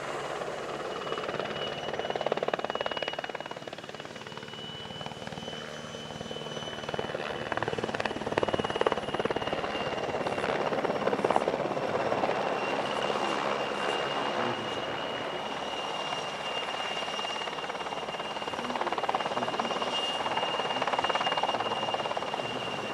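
A PZL W-3 Sokol military helicopter of the Czech 243rd Helicopter Squadron at an airshow, its rotor and engine drone steady and fairly loud throughout with no voices.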